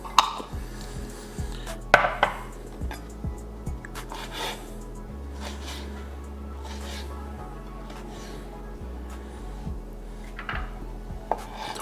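Knife chopping vegetables on a board for a Calabrese pasta sauce, with scattered sharp taps and clatter of kitchenware at first, then quieter rubbing and a low steady hum.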